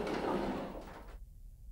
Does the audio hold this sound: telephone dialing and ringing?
no